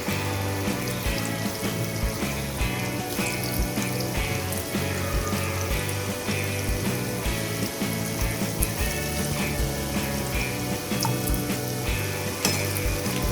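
Tapioca paniyaram batter fries in a pan with a steady, dense sizzle and crackle that stays close and even throughout, no voices.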